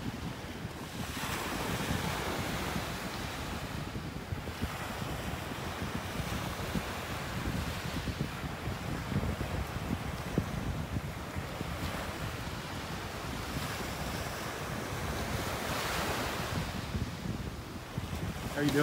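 Surf washes in repeated, rolling surges along a Gulf beach in North Naples, Florida, mixed with heavy wind buffeting the microphone and a continuous roar of open water.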